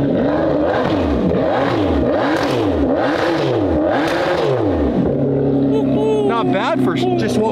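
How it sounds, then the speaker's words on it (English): Front-mounted V12 supercar engine with an aftermarket exhaust, revved hard in repeated loud rising and falling bursts close by, then settling to a rough idle while a person speaks briefly. "the way that this car sounds, all because of the engine that's mounted in the front of this thing"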